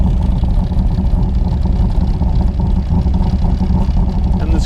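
A 1965 Shelby Cobra replica with a 427 V8 engine runs close by, producing a loud, deep, rumbling engine roar that stays steady throughout.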